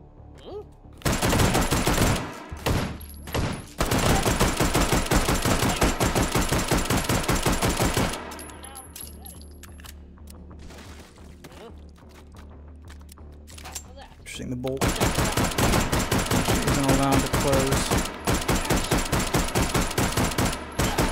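Sustained automatic gunfire in the VR shooter H3VR, loud rapid bursts filling the opening stretch, a quieter lull in the middle, then another long loud volley; someone talks over parts of it.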